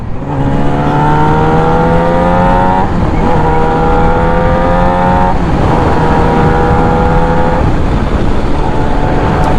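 A Yamaha YZF R6 motorcycle on a test ride accelerates hard from onboard, a loud, close engine whine climbing steadily in pitch through several gear changes, each shift breaking the rising tone, with no talk.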